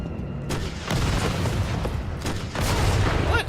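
A rocket launcher firing in Resident Evil 3 sounds as a loud burst of explosive booms, with sharp blasts around one and two and a half seconds and a sustained roaring rumble between them, dense and close with no talk.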